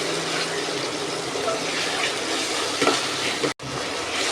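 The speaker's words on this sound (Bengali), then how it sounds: "আদা রসুনটাকে ভেজে নেব" Ginger and garlic paste fries in hot oil, making a continuous close sizzling crackle with faint stirring scrapes and one brief cut-out near the end.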